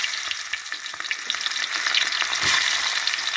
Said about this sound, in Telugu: గుడ్ల ఆయిల్లో మనం ఇప్పుడు ఉల్లిపాయలు వేసేసుకుందాం